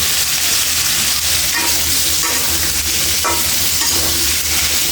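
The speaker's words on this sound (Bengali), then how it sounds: "এখানে আমি দুটো আলু, দুটো বেগুন কেটে নিয়েছি, এখানে ভেজে নেব।" Cut potatoes and eggplant fry in a pan, a dense, continuous loud sizzle and crackle with occasional stirring scrapes, no talk.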